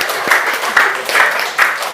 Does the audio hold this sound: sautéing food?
no